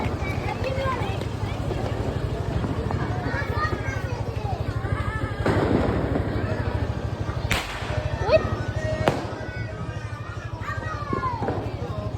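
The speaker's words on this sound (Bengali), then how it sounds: "আতশবাজি ফুটতাছে।" New Year fireworks burst overhead, giving a few sharp, cracking pops spread across the stretch over a steady background hum, with people's voices audible throughout.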